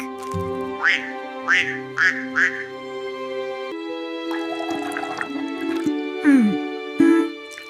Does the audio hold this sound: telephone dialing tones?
no